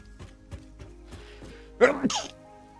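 A sudden loud sneeze bursts out near the end, after a stretch of quiet background murmur and faint taps.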